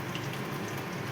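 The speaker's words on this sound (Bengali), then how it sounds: "চায়ের জল ফুটছে" A pot of water for tea boiling on a home stove, a steady soft bubbling and hissing wash, faint and continuous with no talk.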